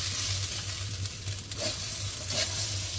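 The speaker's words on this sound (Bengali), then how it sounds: "চালটা পোলাওয়ের চাল যত বেশি ভালো করে ভাজা হবে না পোলাও তত ঝুরঝুরে হবে" Pulao rice frying in a spoonful of ghee, a steady close sizzle with occasional stirring scrapes in an otherwise quiet kitchen.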